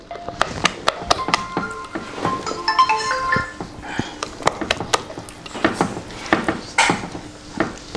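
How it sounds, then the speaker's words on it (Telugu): Gram flour batter for chili bajji being mixed in a bowl, with repeated sharp clinks and taps of utensil against the bowl in an uneven rhythm, close and fairly loud, no voices. "పిండి కలుపుతున్నాను"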